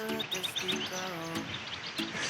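Birds chirping at Lesmurdie Falls, a national park waterfall near Perth, with repeated short high tweets and calls at moderate distance, fairly quiet over soft ambient background.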